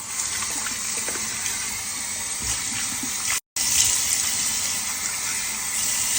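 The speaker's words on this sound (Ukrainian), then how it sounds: "ми просто змиваємо водою" Water runs steadily in a continuous rush as skin is rinsed after a scrub, cutting out for a moment midway before pouring on again.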